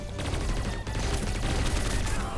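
Rapid automatic gunfire in T3 Arena, a 3v3 mobile first-person shooter, fills the moment with a dense, continuous burst of loud shots and barely a pause.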